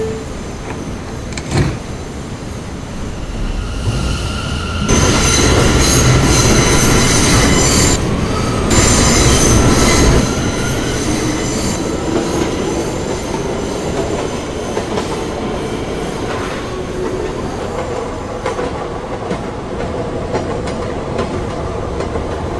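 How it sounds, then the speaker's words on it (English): An R179 M subway train on the Myrtle Avenue line rumbles and clatters between stations, loud and close, with sharp wheel squeals and bursts of rattling track noise that swell and fade over its run. "This is a Marcy Avenue bound M train."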